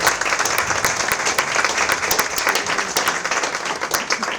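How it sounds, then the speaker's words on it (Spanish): Audience applauding a speaker at the close of a talk on death, with continuous, fairly loud clapping from a crowd that holds steady throughout. "Un fuerte aplauso para Mario de la Torre."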